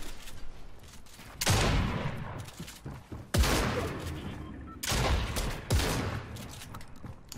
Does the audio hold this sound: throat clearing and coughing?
no